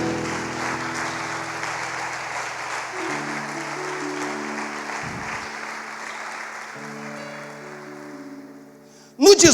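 A church congregation applauds during an evangelical sermon, a moderate, steady clapping under sustained organ-like keyboard chords that fades before a sudden louder burst at the end.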